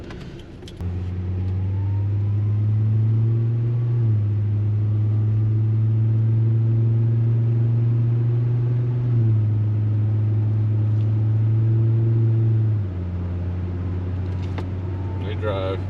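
A 2006 Volvo XC70 rolling on new off-road tread tires, a steady loud low road and engine drone holding for most of the stretch with slight shifts in pitch, heard from inside the car.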